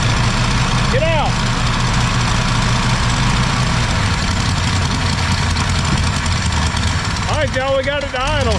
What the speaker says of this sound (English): we got it to idle